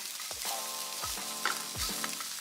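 Sausage sizzling and frying in a pan at a cooking show demonstration, a steady loud crackle with three sharp clanks of a utensil turning the links.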